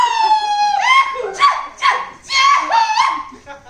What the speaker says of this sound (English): the cheer that you do during Samoa, which is called a chi-hu